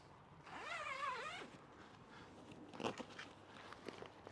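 The cover on a Kings 270 Tourer freestanding MKII awning is unzipped in one quiet, steady pull lasting about a second, followed by faint rustling and a soft crinkle of the fabric.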